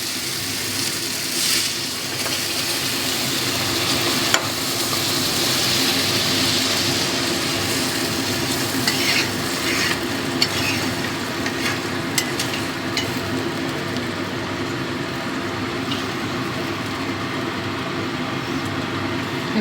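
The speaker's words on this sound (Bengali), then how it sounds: "আমার ভালো মতো কষানো হয়ে গেছে, তেল ছেড়ে দিয়েছে" Onion masala sizzles steadily in hot oil in a pan for a tangra fish curry, a continuous close frying hiss with faint stirring clicks and no talking.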